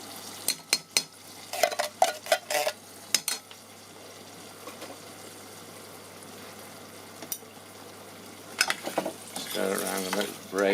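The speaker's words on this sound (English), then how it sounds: "Stir it around and let it braise away nicely." Chicken pieces with tinned tomatoes, tomato puree and sugar braise in a pan. Sharp utensil clanks and scraping from stirring come in bursts at the start and end, with a low, steady simmering sizzle between them.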